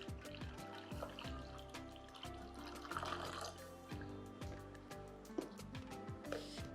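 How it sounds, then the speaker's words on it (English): Freshly brewed coffee poured from a cafetiere into a mug or heat-proof glass, a steady close liquid stream trickling and filling over soft background music. "then pour it into your mug or heat-proof glass"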